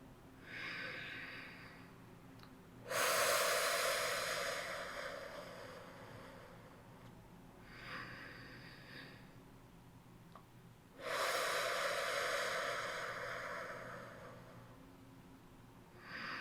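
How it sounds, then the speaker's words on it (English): Two slow, deep breaths, each drawn in through the nose and let out through the mouth, close and fairly loud with quiet pauses between them and no talking. "You're going to inhale through your nose and exhale through your mouth."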